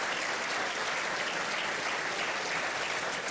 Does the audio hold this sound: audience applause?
yes